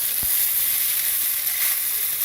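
Spaghetti frying in a hot pan with a pancetta mixture gives a loud, steady sizzle and crackle close up, continuous with no talking.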